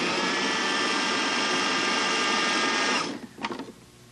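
A kitchen blender purees vegetables with a loud, steady whirring motor for about three seconds, then cuts off, leaving a few faint clatters in the quieter tail.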